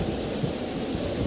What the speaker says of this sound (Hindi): हे भगवान, इस तूफान को रोको